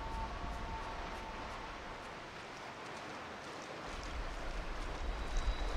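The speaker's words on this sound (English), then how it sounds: "Alright, we've gone into the waterfall." A constant rushing wash of falling water surrounds the player inside a waterfall in the video game Lost Ember, dense and unbroken, growing slightly louder toward the end.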